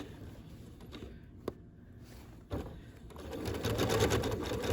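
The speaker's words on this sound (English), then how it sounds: "I can take it to the sewing machine, and I'm just going to stitch" A sewing machine hums and stitches quilt binding in a rapid mechanical patter, with a click or two before it speeds up louder toward the end.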